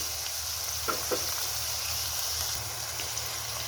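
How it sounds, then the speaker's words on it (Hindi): Chicken, cabbage and tomatoes frying together in a pan, a steady soft sizzle with a couple of faint stirring knocks, close and without talk. "ये तमाम चीज़ें बहुत ही अच्छी तरह जो है ना वो भून रही हैं"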